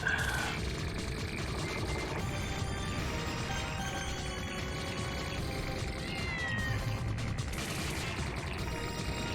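Cat meows from the shoot-'em-up video game Castle Shikigami 2, heard amid a dense, continuous wash of game music, rapid gunfire and effects that keep them partly masked.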